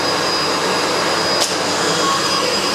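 Loud, steady roar of a SEBO Felix vacuum cleaner working on a hard floor, a constant motor whoosh with a brief click partway through and no talking.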